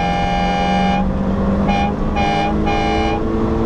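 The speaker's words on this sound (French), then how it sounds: "Tu mets le klaxon" A car horn sounds one long honk, then three shorter blasts in quick succession, loud and close over steady engine and road noise, during the Maroc Classic 2014 rally.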